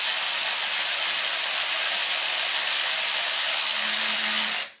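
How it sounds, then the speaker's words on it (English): A wrench or ratchet tightens the alternator adjustment bolt on a 1998 Honda Accord, a steady broadband mechanical rasp close by that runs almost the whole time and cuts off sharply at the end. No one speaks. "tighten our adjustment bolt, and you'll see the alternator begin to come up and put tension on the belt"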